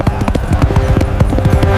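A horse's hooves clip-clop in a fast, steady rhythm, loud and close, as a rider gallops off on horseback in a historical tale.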